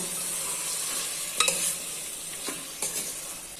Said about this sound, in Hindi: अभी इसमें चिकन ऐड कर लेना है और मिक्स कर लेना है।